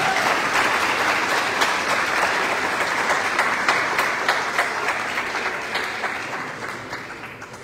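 Sustained loud applause from the audience at a graduation ceremony for an administration and software development program, steady dense clapping that slowly tapers off over several seconds.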